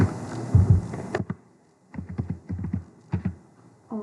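Keys clack on a computer keyboard as placeholder text is typed into an HTML form field, short close bursts of quick taps separated by brief pauses, with no talking.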